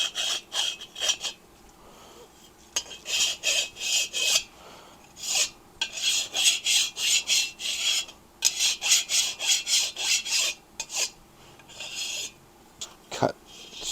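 Hand file rasping along the outside edge of a 1972 Harley-Davidson XLCH Ironhead Sportster cylinder, close and clear in repeated bursts of strokes with short pauses between, no talking.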